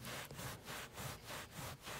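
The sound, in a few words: rubbing solution into marker stain on carpet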